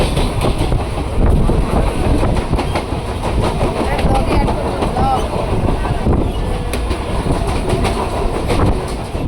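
A Krishnanagar local train runs along steadily, with dense, loud rumble and rattle, rhythmic clickety-clack of the wheels and wind buffeting throughout, heard from inside the carriage.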